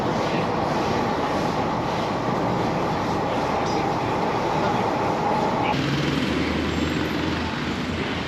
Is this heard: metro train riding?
yes